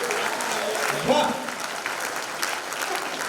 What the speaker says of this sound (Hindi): आप लोग जोरदार तालियां बजाते जाइए, बजाते जाइए